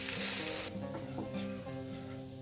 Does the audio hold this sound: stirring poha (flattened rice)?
yes